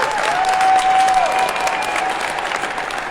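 Audience applause at an outdoor recovery rally, a steady dense wash of clapping that holds for about three seconds and slowly eases, with a faint tonal whine running underneath.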